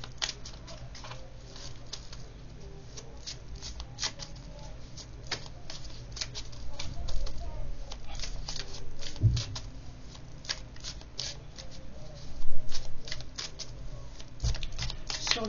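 Thin tarot cards shuffled continuously by hand, a dense papery riffling patter with small louder flurries, close up and without talk.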